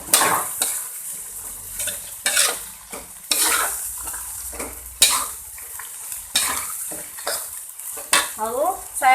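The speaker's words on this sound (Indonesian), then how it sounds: "Sekarang saya mau langsung saja masukin ayamnya." Chicken is dropped into cooked spice paste in a pan for Betawi lontong sayur, then stirred with repeated scraping strokes of a utensil over a steady, close sizzle.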